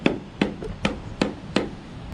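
A bare hand slaps a cedar deck rafter like a hammer, giving five evenly spaced, dull, close knocks about a third of a second apart. No one speaks.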